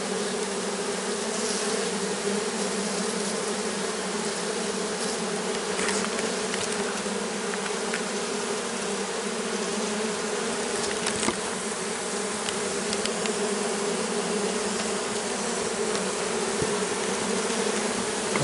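A swarm of honey bees being moved into a hive drones in a dense, steady buzz, close and continuous throughout, with no voices.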